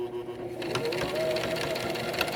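A sewing machine back stitches a lanyard, its motor whirring in a steady, close run of rapid stitches, with a faint voice in the background.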